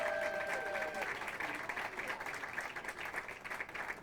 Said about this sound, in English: We'd like her to stand up and take a nice round of applause if you can.